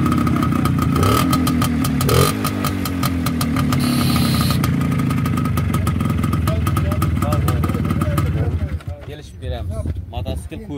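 A motorcycle engine runs close by at a motorcycle market with rough idling and revving, its pitch rising and falling, fading toward the end as people talk nearby.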